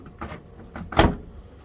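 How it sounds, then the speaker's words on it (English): The door of an LG washing machine is pushed shut during drain pump repair, a few soft bumps and then one firm, close thud with no talk. "make sure the door shuts"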